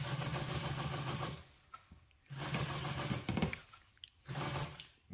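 Sewing machine stitching a golf cart seat cover, running in three loud steady bursts of rapid whirring stitches separated by short pauses with faint handling clicks.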